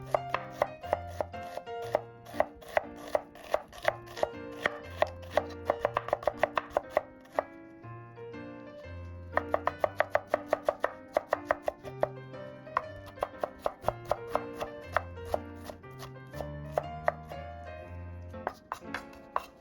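Rhythmic knife chops as half a red onion is finely diced on a cutting board, crisp repeated taps in quick bursts with a short pause midway, backed by soft music.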